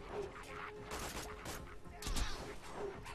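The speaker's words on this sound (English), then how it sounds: "Let's throw some grenades." Grenades explode in the Borderlands 2 shooter game during a firefight, with several muffled bursts and crackling blasts set among ongoing gunfire and game noise.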